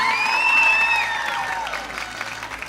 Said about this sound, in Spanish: Fuerte el aplauso para el equipo de staff.